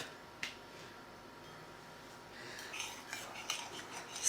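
Ordinary table knife mixing water into suet pastry dough in a bowl, soft scraping and light clinks against the bowl, growing busier toward the end, close and quiet.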